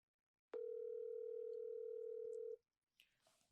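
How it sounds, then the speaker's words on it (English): A phone call placed over speakerphone produces one steady ring tone that holds for about two seconds and then stops, followed by faint noise. "You hear the ringing?"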